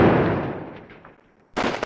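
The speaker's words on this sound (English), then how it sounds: "You can see that the explosions actually covered quite an area" Howitzer shell explosions in the video game Squad Battles Eagles Strike, a heavy boom that decays into a long fading rumble, followed by a sharp burst of noise near the end.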